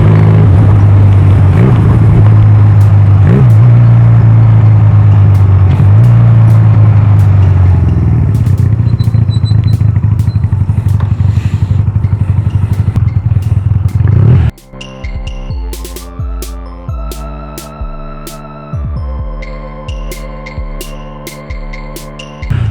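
A Honda Rebel 250 motorcycle engine roars steadily up close, then settles into a series of quick, stepped throttle blips during a rev-matched downshift.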